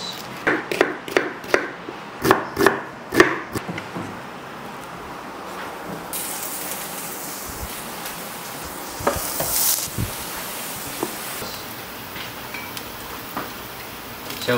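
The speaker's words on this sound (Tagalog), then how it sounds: "gigisa tayong onions." Onions being sautéed in a heated pan for a Filipino dish, opening with a run of sharp knife or spatula taps, then a soft steady sizzle with scattered stirring scrapes.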